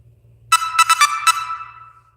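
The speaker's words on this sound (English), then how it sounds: "I don't know why my notifications did not stay off" A bright electronic phone notification chime plays a quick sequence of tones, then rings out and fades, alone in a quiet room.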